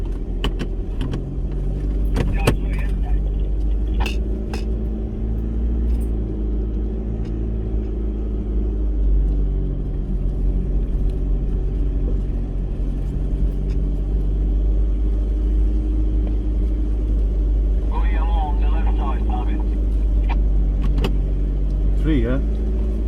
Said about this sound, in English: Yeah, some old car.